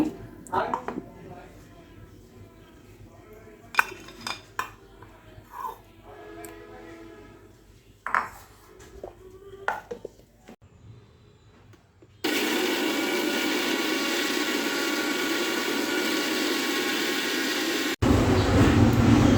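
Ripe mangoes for mango rasgulla are ground into a paste in a mixer, whose loud, steady whirring roar starts after a stretch of talking and household noise and runs unbroken to the end.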